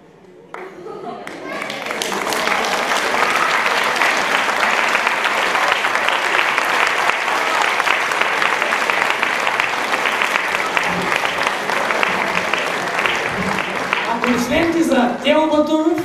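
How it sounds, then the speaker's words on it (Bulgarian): A concert audience gives sustained, loud applause that builds within a couple of seconds and holds steady, with scattered cheers and voices near the end. "Аплодисменти за Тео Батуров отново"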